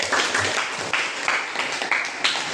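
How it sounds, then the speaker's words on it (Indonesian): A class claps for themselves after their presentations, a sustained, close round of many hands with slight swells and no pauses. "Tepuk tangan lagi untuk diri sendiri."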